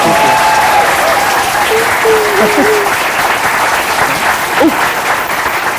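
A library audience applauds after a book reading by Aubrey Plaza and Dan Murphy, with steady, full clapping throughout and a few faint voices or whoops rising above it.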